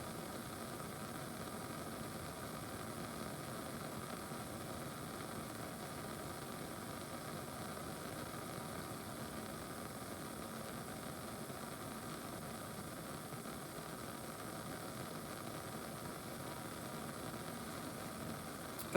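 A Bunsen burner flame heating a sample during a thermal decomposition experiment, giving a faint, steady, even roar that holds unchanged throughout with no talking.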